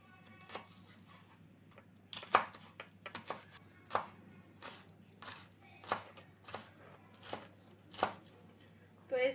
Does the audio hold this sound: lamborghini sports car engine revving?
no